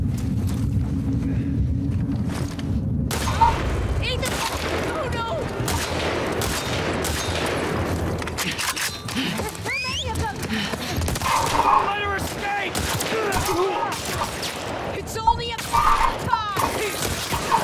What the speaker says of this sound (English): Who's shooting at me from the back?